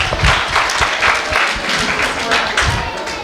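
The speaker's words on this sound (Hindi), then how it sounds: "बहुत ही प्यारे गीत के लिए जोरदार तालियां।" Audience at a school Independence Day celebration gives sustained, dense applause, many hands clapping together at moderate distance for several seconds.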